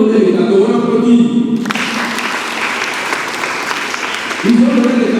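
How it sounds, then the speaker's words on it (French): A church congregation applauds during a children's missionary mass, a sustained burst of many hands clapping at close range, bracketed by someone speaking before and after. "On applaudit."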